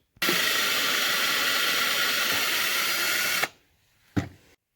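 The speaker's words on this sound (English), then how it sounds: "I'm going to drill my pilot holes and try to get these attached" A power drill whines at high speed for about three seconds, loud and close, drilling pilot holes for hinges on a jon boat, then stops, followed by a short clunk.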